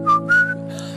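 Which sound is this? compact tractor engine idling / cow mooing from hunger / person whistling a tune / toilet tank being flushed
person whistling a tune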